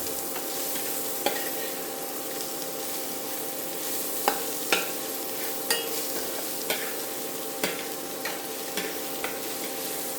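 Urad dal and mustard seeds fry in hot oil while making upma, a soft steady sizzle under occasional scraping stirs and small pops, fairly quiet and close.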